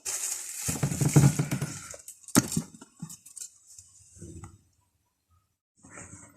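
Chicken strips being stirred with spices, egg and vinegar in a bowl give wet squelching and scraping close up, with a sharp clink of utensil on the dish midway, then short quieter stirs separated by pauses.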